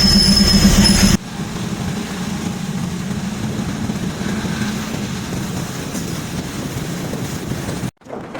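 A Thai local train, No. 403, rumbles steadily past at close range at Ban Khon railway station in Phichai, Uttaradit, with a broad, grinding roar and wind buffeting, ending abruptly after several seconds.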